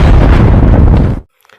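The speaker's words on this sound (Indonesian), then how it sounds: "Bob kemudian menembak Kelvin." A single loud gunshot from a film scene, with Bob shooting Kelvin, bursts at full strength and rumbles for about a second before stopping abruptly into silence.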